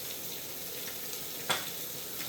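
Vegetables for a creamy mushroom and roasted chestnut soup sweat in a pot, giving a soft steady sizzle with one brief scrape or clink partway through.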